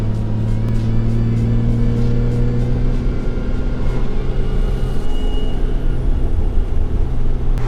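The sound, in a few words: car with Toyota 2JZ engine accelerating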